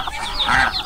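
Tagalog native chickens clucking up close, a brief, loud, busy burst of overlapping clucks and calls in a farmyard.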